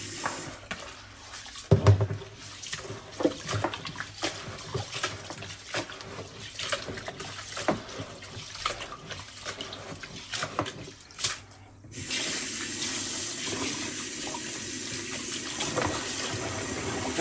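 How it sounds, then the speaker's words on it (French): Rice being washed in water while preparing rougail with peas, with sloshing, splashing and irregular water noises, then a steady stream of running tap water toward the end; no one speaks. "Je vais laver le riz pour remettre avec les petits pois."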